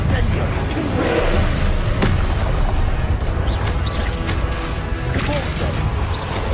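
Spell blasts in Hogwarts Legacy combat, fired one after another: explosive cracks and booming impacts over a continuous roar of battle noise, loud and dense throughout the clip.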